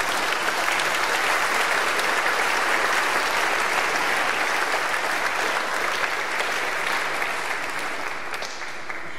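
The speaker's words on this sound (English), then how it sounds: "Let's give them a round of applause for this milestone" Church congregation applauding during a worship service, a dense, even wash of many hands clapping steadily for several seconds before thinning slightly at the end, no voices over it.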